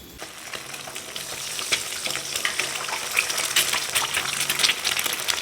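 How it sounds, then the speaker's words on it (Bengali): Water pours and splashes steadily onto potted plants being watered, a continuous hissing gush with small spattering bursts throughout, close and fairly loud, no voices. "গাছে জল দেওয়া হলো"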